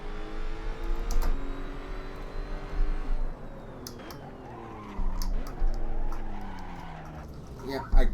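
Tyres squeal and skid as the right front locks under braking into the Corkscrew in the Assetto Corsa racing game, heard over a steady, shifting engine drone with a sharp burst near the end.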